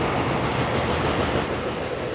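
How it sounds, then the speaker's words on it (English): Train arriving at a Japanese seaside station by Oiso Beach, with a continuous close rumble and faint clickety-clack of wheels on rails, steady and unbroken, no one speaking. "Here comes the train."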